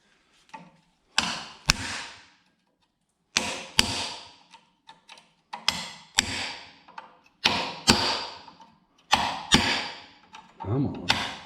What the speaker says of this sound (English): I'm going to pop these bands here with a cold chisel